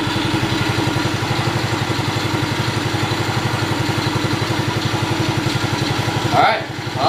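A small ATV engine idles close by with a rapid, even putter throughout, briefly disturbed near the end; a person talks over it.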